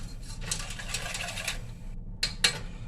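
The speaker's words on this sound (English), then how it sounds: "make sure and whisk your gravy powder up" A whisk beats gravy powder in a bowl, with quick rhythmic tapping and scraping strokes that come in bursts, pause briefly, then resume with a couple of sharper knocks.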